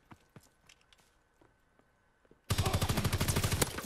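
A primary weapon fires in Call of Duty WWII: after quiet, faint footsteps and small clicks, a loud, close burst of rapid automatic gunfire starts suddenly and keeps going to the end.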